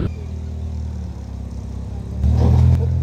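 A motorbike ridden by a woman goes past on a street in Bukittinggi, its engine droning steadily and then surging louder and closer near the end with some clatter.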